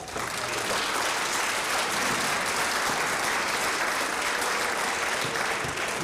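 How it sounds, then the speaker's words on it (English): An audience at a Pikes Peak Honor Orchestra event applauds the hosts whose school facilities were used. The clapping is dense and continuous, holding an even level throughout, with no voices. "Let's give them a round of applause"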